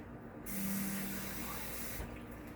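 Water is splashed into a ketchup-and-barbecue-sauce dish for Haitian cooking just before it goes in the oven: a short steady hiss of pouring that runs about a second and a half, close and clear.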